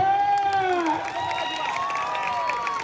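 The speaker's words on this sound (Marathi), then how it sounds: "टाळ्या करा की" A crowd watching a traditional Indian wrestling bout cheers and claps, with shouting children and a sustained roar of voices rising and falling around the arena for a few seconds.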